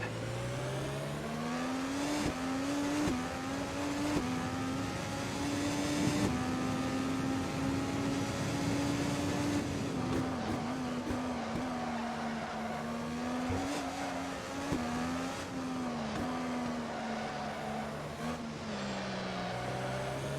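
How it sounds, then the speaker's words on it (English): IndyCar race car in the Automobilista sim on the São Paulo street circuit, engine droning continuously at high revs with a sustained tonal squeal running throughout, loud and steady with small pitch shifts as it corners. "Still think the tire squealing noise is probably just a little too high right now."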